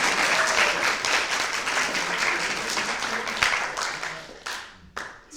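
Audience applause fills a presentation hall at the SIGBOVIK 2017 conference, dense steady clapping that runs on at length, with a few sharper claps and a brief dip near the end.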